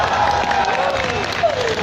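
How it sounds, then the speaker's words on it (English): Short burst of audience applause at a ToyCon 2017 fan event, steady clapping with crowd noise and a few voices calling out over it. "That's for an applause, guys."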